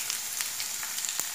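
Onions sautéing in hot oil with mustard seeds and curry leaves, a soft steady sizzle with faint crackles and brief pops, heard close and alone without talk.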